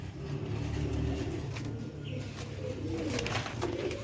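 Big-headed pigeons of an old Baba Noor-ud-Din quail-type breed coo steadily in a loft, a continuous low throaty murmur close by with faint background noise and no talk.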